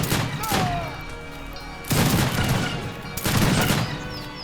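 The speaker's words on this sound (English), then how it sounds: "we see the volunteers taking shots at the Kleps" Musket volunteers fire volleys in the strategy video game Age of Empires 3, giving three loud bursts of overlapping gunshots, at the start, near two seconds and after three seconds, with rumbling battle noise in between.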